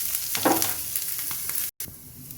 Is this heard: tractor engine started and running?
no